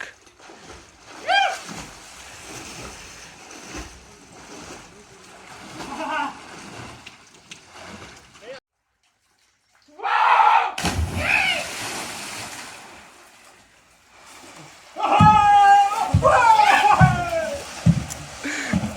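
Splashes and sloshing from someone in the water of a village well come in bursts, with voices shouting and talking around them and echoing off the well walls.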